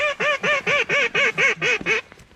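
Mallard ducks in a flooded cornfield, a rapid run of about nine loud, evenly spaced nasal quacks, close by, trailing off at the end.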